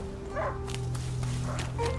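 A dog in the medieval game A Plague Tale: Innocence gives a few short barks at mid distance over a low ambient hum, with faint footsteps.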